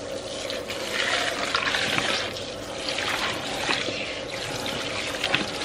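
Tap water runs and splashes while conditioner is rinsed out of a wig, a steady close trickle with uneven surges as the hair is worked under the stream.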